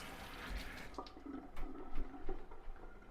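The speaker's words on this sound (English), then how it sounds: "Now I want half a blue onion here, rinse him off." Half a blue onion rinsed under a running kitchen tap, with short splashy bursts of water hitting the onion and sink over a few seconds, close and fairly loud.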